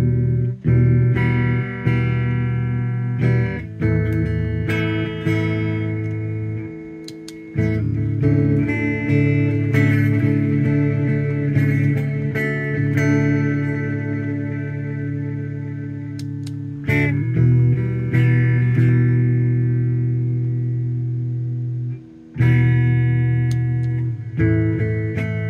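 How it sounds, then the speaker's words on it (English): An electric guitar runs through a vintage Echo delay pedal, sustained chords and notes trailing repeating echoes and a thick, effected shimmer, loud and continuous for the whole stretch, with no talking. "This vintage Echo delay pedal can make some really cool sounds."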